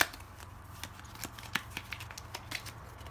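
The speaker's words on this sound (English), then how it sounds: "I have to shuffle this deck now because we got to the end of it." A deck of Flamme Rouge cards shuffled by hand, with a string of crisp riffling snaps and soft card slaps close up, fairly quiet, no talking.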